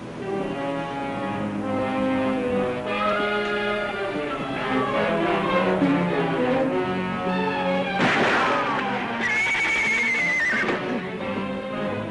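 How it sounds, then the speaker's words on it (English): A horse whinnies amid a busy, music-like background, with a sharp crash near the middle; the neigh is loud and close, rising and falling. "Your horse ran off."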